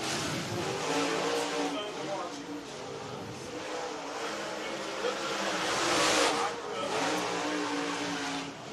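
Race cars roar around the track at Lake Cumberland Speedway in Burnside, Kentucky, a steady loud engine drone that swells and fades as they pass, with tire noise and an announcer talking over it.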